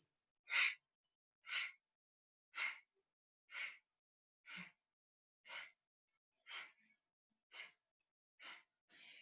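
Sharp, rhythmic forced exhales through the nose during a yoga breathing exercise, about ten evenly spaced puffs, close and clear with silence between them.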